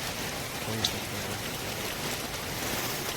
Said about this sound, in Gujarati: હજી વરસાદ ચાલુ છે